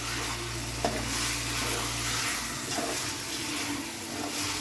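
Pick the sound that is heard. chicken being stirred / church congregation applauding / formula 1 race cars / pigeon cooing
chicken being stirred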